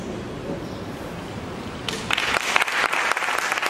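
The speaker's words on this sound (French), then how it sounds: "salve d'applaudissements pour Lubumbashi" An audience breaks into applause partway through, the clapping swelling suddenly from a quieter murmuring room into dense, bright, sustained clapping that fills the rest of the moment.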